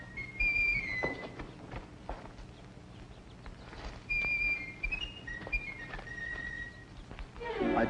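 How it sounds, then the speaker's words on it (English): A horse pulling a buggy whinnies amid high whistling tones, with faint hoof clops and shuffling in the background. "I tied the horse and buggy at the crossroads."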